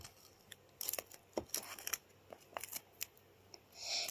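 Tape being pressed and smoothed onto a handmade watermelon paper squishy gives a series of close, crisp crackles and sharp clicks, irregular and fairly quiet, with a louder rustle at the end and no one speaking.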